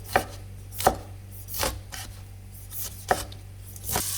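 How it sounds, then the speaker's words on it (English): A knife thinly chopping tomato on a cutting board for chicken jalfrezi, about six distinct thuds at an irregular, unhurried pace, close and fairly clear over a low background hum, with no voices. "Now thinly chop tomato"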